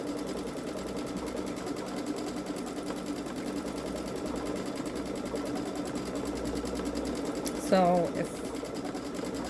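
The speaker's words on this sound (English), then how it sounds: "I'm watching on the screen as it stitches out too" A Babylock Solaris Vision sewing machine stitches out an edge-to-edge quilting design, its fast steady needle rhythm running close and continuous throughout, with someone briefly speaking near the end.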